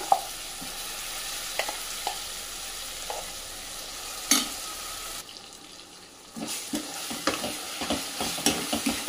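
A spoon scrapes and taps around a pan as thick ground ridge gourd and tomato chutney is stirred over a soft sizzle, with a short quieter pause midway.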